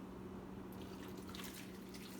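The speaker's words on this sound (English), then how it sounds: "And then next we're just going to go in with a cup of water" A cup of water is poured into a pot of apples, a faint, soft splashing that starts after a short quiet moment and continues steadily to the end.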